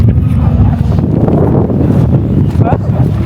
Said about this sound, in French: Il y a du vent, hein, aujourd'hui.